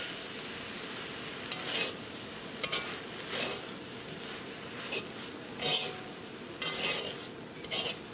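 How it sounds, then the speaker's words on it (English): Ham fried rice fries steadily in a pan, a continuous close sizzle broken by repeated scraping and clinking strokes as a utensil stirs it at irregular intervals. "And stir that all up. And fry the rice up."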